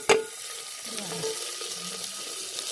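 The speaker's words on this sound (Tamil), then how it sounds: "இப்போ வெங்காயம் வதங்கிடுச்சு" Onions sauté for a mutton curry, starting with one quick metallic clank, then a soft, steady sizzle with light stirring close by.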